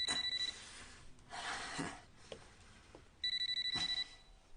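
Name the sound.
telephone ringing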